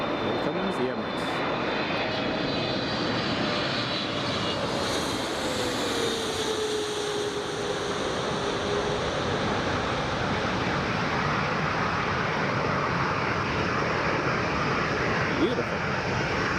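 An Emirates airliner passes along runway 25 at Newcastle International Airport, a steady broad engine roar that holds from start to finish at moderate distance, with a voice talking over it.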